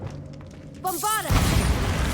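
After a quiet stretch, a shouted spell is cast and the Bombarda charm in Hogwarts Legacy bursts into a loud, booming explosion with a roaring, noisy tail.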